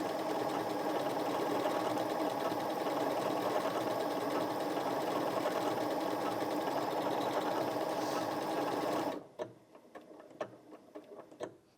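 A Janome MC 6700p sewing machine stitches at a fast, steady rhythmic whir for about nine seconds, then stops abruptly and leaves a few light clicks and handling taps.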